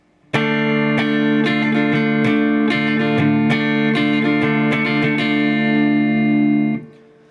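A distorted electric guitar plays rhythm figure 2 of a song at full speed: one sustained, loud chord re-struck in quick rhythmic strums for several seconds, then cut off, with no voice.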